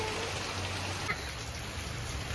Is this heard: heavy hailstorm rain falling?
yes